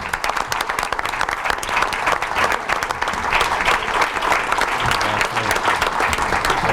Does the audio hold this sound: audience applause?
yes